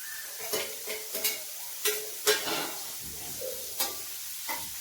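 Boiled broad beans added to oil with a tempering and fried, producing intermittent crackling pops and spatters with stirring clinks against a quiet background.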